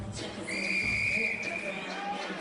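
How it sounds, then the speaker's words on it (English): Referee's whistle at a live LFA featherweight MMA fight, one sustained shrill blast of about a second over crowd and arena noise, with faint talk around it. "Whistle sounds."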